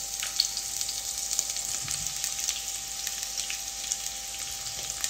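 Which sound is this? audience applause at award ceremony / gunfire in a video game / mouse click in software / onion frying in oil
onion frying in oil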